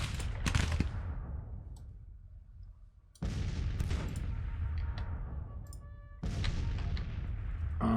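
Cannon fire in the Civil War strategy game Grand Tactician, three heavy booming volleys spaced a few seconds apart, each with a sharp crack that rolls off into a long rumbling decay, with no voices.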